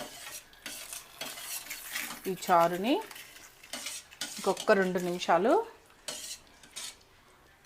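A spoon stirs tomato rasam in a metal pot, giving scattered scraping clinks and soft knocks with a faint simmering hiss, close by, while someone talks over it.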